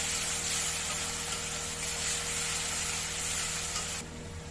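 Masala paste with ground tomato frying in a pan for a Bengali katla fish kalia, a dense continuous sizzle, loud and close, that drops abruptly in level near the end.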